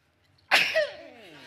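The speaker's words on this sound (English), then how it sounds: "I'm gonna sneeze." A single loud sneeze up close, a sudden explosive burst followed by a short voiced trailing sound.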